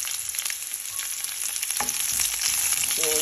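Sliced onions frying with browned garlic in a pan for a pork or chicken kaldereta, a steady hissing sizzle that grows slightly louder toward the end, with a couple of soft utensil taps and no talking.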